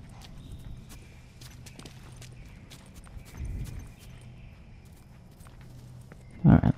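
Hooves clip-clop in The Last of Us: Left Behind, a horse stepping in slow, faint, irregular beats over quiet game ambience, ending with a couple of louder thumps.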